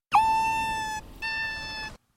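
A high tonal call with rich harmonics, held steadily, then a brief break and a second matching segment, clear with no talk.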